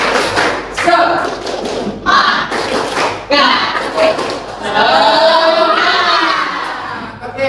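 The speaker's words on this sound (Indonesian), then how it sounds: "Kita tepuk semangat, tepuk semangat, tahu, ya, 1, 2, 3, tepuk semangat" A group performs a rhythmic spirit clap, sharp claps and thumps landing in quick bursts amid loud, excited group voices chanting and shouting along.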